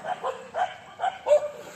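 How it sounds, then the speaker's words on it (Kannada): Street dogs barking outside at dawn near a gym: four short, moderately close woofs spaced evenly over under two seconds, alone without talk. "ನಾಯಿಗಳ ಕಾಟ ಹೆಂಗಿದೆ"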